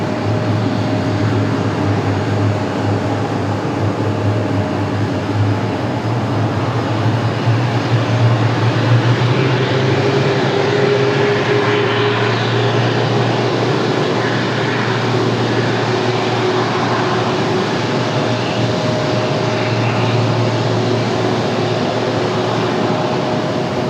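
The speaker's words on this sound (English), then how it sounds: "We're going to have the A330 start up." Airbus A330 airliner engines, a Copa aircraft at Raleigh-Durham International Airport, start up with a loud, steady roar and a low whine that slowly rises in pitch, continuous throughout.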